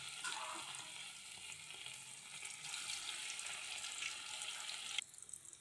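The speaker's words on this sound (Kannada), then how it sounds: "ಎಣ್ಣೆ ಹಾಕಿಕೊಂಡೆ ಬಾಣಲೆಗೆ ಕಬಾಬು ಮಾಡಲಿಕ್ಕೆ" Kebabs frying in a pan of hot oil in a Mangalorean home kitchen, a steady, soft, even sizzle running throughout with a small clatter near the end.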